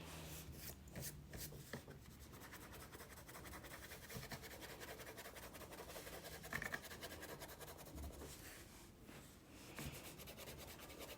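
A crayon dragged sideways along its flat edge across paper gives a very quiet, dry, steady scratching rub in close strokes that runs with little pause.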